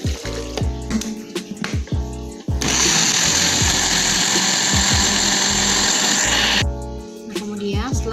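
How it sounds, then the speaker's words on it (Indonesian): Blender whirring through corn and water for a baby pudding, a loud continuous motor roar in the middle, framed by clinks and knocks of kitchen handling before and after. "langkah pertama kita blender halus jagungnya bersamaan dengan air."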